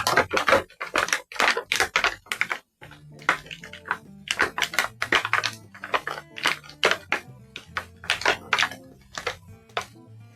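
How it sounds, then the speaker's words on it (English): Crinkly plastic packaging is worked and torn to free a small action figure knife from a retro-carded GI Joe Classified Cobra Commander, with close, irregular rustles, crackles and snaps in bursts over about ten seconds. "we always have the problems getting the knife out of the plastic because it's such a small piece"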